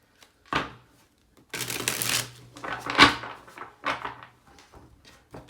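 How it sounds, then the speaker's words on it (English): A deck of tarot cards is shuffled by hand, heard as a brief riffle, then a longer burst of papery riffling and a few softer taps and shuffles, close by with no speech. "Let's just get another shuffle in."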